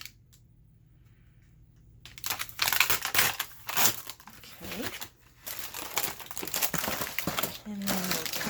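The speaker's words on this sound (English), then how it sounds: "let's go ahead and tear this" Coffee-dyed parchment paper is torn by hand for a craft pocket, with a series of crisp, close crinkling rips arriving in bursts after a quiet start, and a voice speaks briefly during them.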